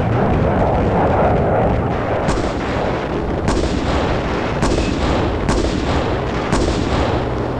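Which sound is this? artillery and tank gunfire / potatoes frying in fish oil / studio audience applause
artillery and tank gunfire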